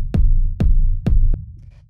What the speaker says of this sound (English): is this reverb kick, which sounds like this